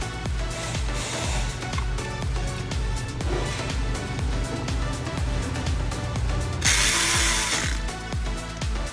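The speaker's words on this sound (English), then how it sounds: "Install these two bolts to hold the shield back in place." Power tool or ratchet driving in two bolts that hold a shield in place on a Toyota Sienna 3.3L during a timing belt job, a dense mechanical whirring and clicking with steady background music.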